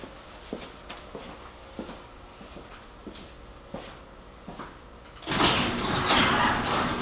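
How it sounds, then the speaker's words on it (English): Door of a rolled Chevrolet Silverado pickup opening in a shop, a series of light clicks and handle knocks followed by a louder, sustained rush of sound as the door swings open, heard alone without talk. "So I'm going to open the door here."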